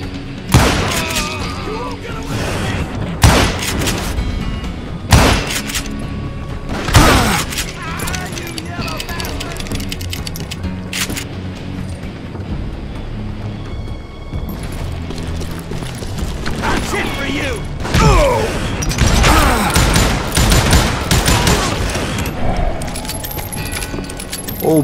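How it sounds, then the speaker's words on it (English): Gunfire in the Western shooter Call of Juarez: Gunslinger: repeated sharp shots and booming bursts ring out over a busy battle din, with a narrating voice talking throughout. "Who's shooting at me? We're under fire!"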